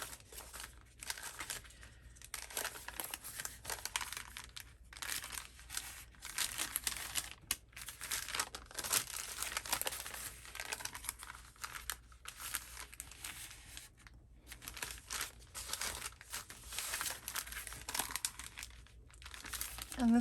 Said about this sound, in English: we're going to fold this bottom flap up on each one of these